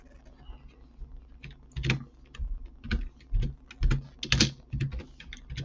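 Keys clatter on a computer keyboard while text is entered into an Excel spreadsheet, coming in short irregular bursts of clicks with brief pauses between them, fairly close and moderately loud.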